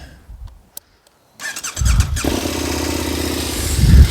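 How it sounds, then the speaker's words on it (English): A 2022 KTM 1290 Super Adventure S cranks and fires up with a loud, close catch, then settles into a steady, rumbling idle that swells briefly near the end. "So let's start the bike."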